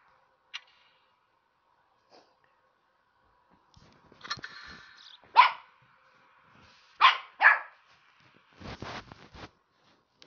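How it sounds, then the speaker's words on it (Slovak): A dog barks in scattered bursts, a few sharp single barks followed by a quick cluster of louder ones, fairly close, with no talking. "Ak budete počuť také štekanie, tak to je môj pes a"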